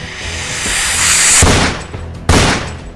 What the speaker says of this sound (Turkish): Bunları susturucu ile öldürsem daha iyi olur